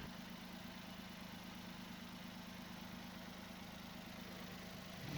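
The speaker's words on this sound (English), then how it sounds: "So I have started the engine." A car engine idles steadily with a low, even rumble and hum, close by and unchanging throughout.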